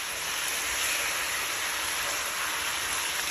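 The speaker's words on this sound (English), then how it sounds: "mix everything and allow all the ingredients to combine really well and fry up nicely" Lamb pepper pot ingredients frying with meat in a pot, giving a steady, dense hiss and sizzle that runs unbroken throughout, close and fairly loud with no talking.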